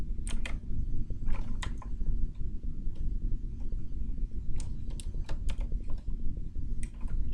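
Keys tapped on a computer keyboard while code is written, a quick run of crisp clicks in separate bursts over a steady low hum, close and clear with no voices.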